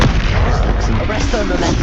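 A Bombarda explosion spell is cast in the video game Hogwarts Legacy: a loud, booming blast with dense rumbling low end that continues without a break through the whole moment.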